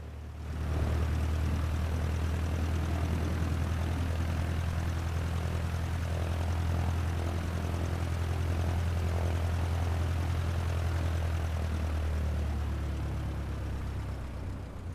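A simulated Icon A5 light amphibious plane in Microsoft Flight Simulator runs its propeller engine in a steady, loud, unbroken drone with a deep low hum that holds for the whole stretch, with no talk.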